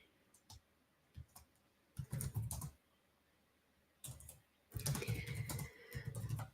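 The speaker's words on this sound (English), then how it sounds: "I'm typing live." Keystrokes on a computer keyboard come in quiet, scattered single clicks and then two denser bursts of rapid typing, fairly close and with no talk.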